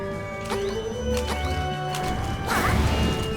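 Sword strikes land on a boss in Zelda: Link's Awakening (2019), giving sharp crashing hit effects in quick succession over game music and sound effects.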